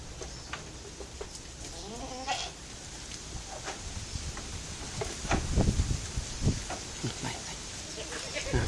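Goats bleat on a goat farm in Narathiwat where the herd grazes, with wavering calls rising above a busy farmyard background while people talk nearby.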